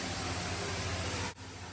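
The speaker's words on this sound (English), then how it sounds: "The rushing noise you hear is from two waterfalls on each end of the atrium." Steady, broadband rushing of water from two waterfalls at either end of an indoor atrium, a faint continuous hiss that briefly dips before carrying on.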